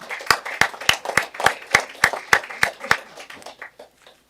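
A small group at a city council session gives a round of applause, about a dozen distinct, evenly paced claps ringing out nearby and tapering off at the end.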